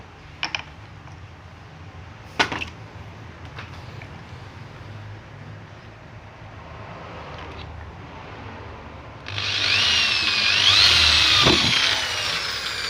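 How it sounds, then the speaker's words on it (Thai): A few faint knocks and clicks, then an electric drill whirs up loudly and runs steadily for a few seconds near the end, drilling metal for an amulet frame. "สว่านเจาะ"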